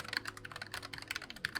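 Rapid, uneven typing on a Bluetooth keyboard with an ABS frame, with a light laptop-like key feel, heard as quick close clicks and taps that run steadily throughout without any talking.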